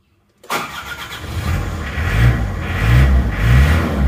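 An Isuzu Panther diesel engine, just repaired, cranks and fires up after a brief silence, then settles into a steady run with a couple of rising revs, heard close and loud.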